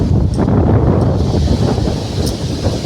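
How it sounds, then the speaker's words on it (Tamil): Strong wind through an open window roars and buffets the microphone in a loud, continuous rumble with no voices. "ஜன்னல் திறந்து அந்தளவுக்கு காற்று பாருங்க எப்படி அடிக்குதுன்ட்டு"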